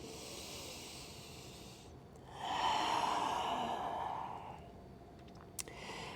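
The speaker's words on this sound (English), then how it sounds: "You might take a few deep breaths here." One slow, deep breath during a yoga squat, a soft hissing inhale followed by a longer, fuller exhale, close and quiet.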